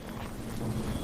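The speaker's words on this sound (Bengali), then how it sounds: "এমন ভয়ঙ্কর বাতাস বইতে লাগলো যে দাঁড়িয়ে থাকাই কঠিন হয়ে পড়ল।" A strong storm wind sound effect from a cartoon, a steady, dense roaring gust that holds at an even loudness throughout with no voices over it.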